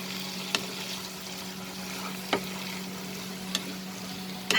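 Prawns keema with green chilies and fried potatoes sizzles steadily in a pan under a constant low hum, with a few sharp clicks as a spoon stirs and scrapes it, close and moderately quiet, no speech.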